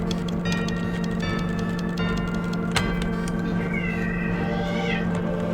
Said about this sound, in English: That was the cat.